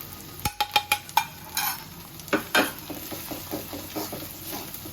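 Spiced chicken curry being stirred and braised in a pan, a few sharp utensil knocks against the pan followed by a run of soft rhythmic scraping strokes over a low sizzle, close and moderately loud.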